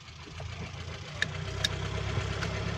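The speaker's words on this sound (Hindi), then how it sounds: "गाड़ी स्टार्ट है, गियर लगाएं जी।" A Datsun car engine idles steadily with a low, even rumble and a few light clicks on top, heard alone with no talk; the gearbox has worn play that lets the gears slip.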